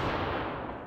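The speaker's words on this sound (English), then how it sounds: "Oh yeah, that explosion." An explosion in the video game Ravenfield, a loud, dense blast of booming rumble that slowly fades over a second, with no speech over it.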